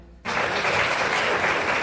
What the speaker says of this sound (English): Let's have a nice round of applause for Rosen Ramirez in absentia.